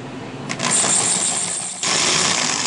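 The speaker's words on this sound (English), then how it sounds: "And there, we're through with the second drill bit." Drill bit grinding through a glass wine bottle, a loud, harsh, continuous whine that starts abruptly, dips briefly near the end, then comes back just as loud.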